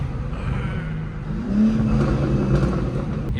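BMW G82 M4 being driven, its exhaust giving a deep, steady low rumble that swells as the engine revs up midway, heard from inside the car with no talking.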